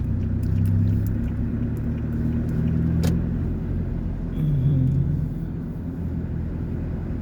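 Sugarcane trucks rumble out of a sugar mill in Thailand before dawn, a steady low engine drone with heavy vehicles passing close, a brief sharp click partway through and no talk.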